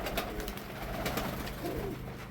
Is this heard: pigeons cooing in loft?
yes